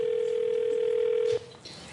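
A steady telephone dial tone hums alone for about a second and a half during a live on-air call, then cuts off abruptly, leaving faint room noise.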